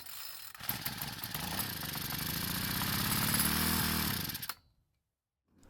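A Troy-Bilt 4-cycle string trimmer engine on the ground fires up and runs on fuel from a bottle. It gives a loud, steady buzzing drone close by for about four seconds, then cuts off abruptly into silence.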